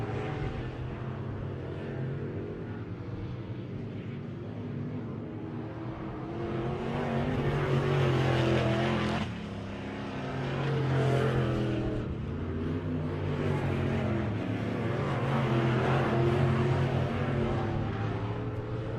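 Race cars lap a speedway track at Lake of the Woods during a Dinner Jacket Classic Series race, engines droning and swelling as the pack sweeps past, a steady distant roar rising and falling in waves.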